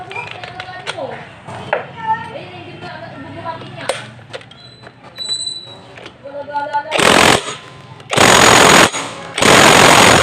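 Screws being fastened while parts are fitted to a Honda Click motorcycle in a motorcycle shop: scattered small clicks and taps, then three loud, sustained rattling bursts of a power tool driving screws close by.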